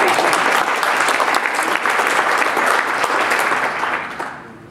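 A conference audience applauds after a talk on software design, producing dense, even clapping that holds steady at full strength and then fades out over the final half second.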